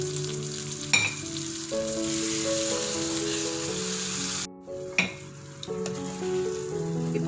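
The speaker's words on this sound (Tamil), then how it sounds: "இப்போ இதில் நம்ம எள்ளு அரைச்சி வச்சுருக்கிற பேஸ்ட் ஆட் பண்ணிடலாம்." Ground sesame paste goes into a simmering brinjal (eggplant) gravy, bringing a steady sizzle and bubbling with a couple of sharp clunks from the spoon or pan, all under soft tonal background music.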